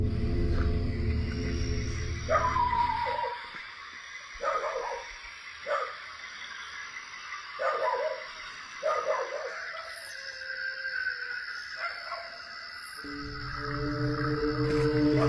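A dog on a walk toward a nearby church gives several short yelping barks and whimpers, spaced across the clip, moderately close, over a steady background hum.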